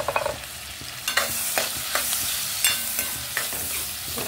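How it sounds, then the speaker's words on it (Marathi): Chopped onion sizzling in hot oil and butter as the base for pav bhaji, with steady frying hiss broken by several sharp stirring scrapes, close and moderately loud, no voices. "त्यामध्ये तेल आणि बटर टाकलेलं आहे, त्यामध्ये जाईल प्रथम कांदा"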